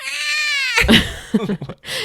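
A voice imitates a cat's meow with a long, wavering, drawn-out cry, followed by a few short vocal sounds.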